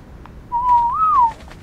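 A player's whistled command in Ark, a single clear whistle that holds a steady tone and then rises and falls briefly, alone over quiet background.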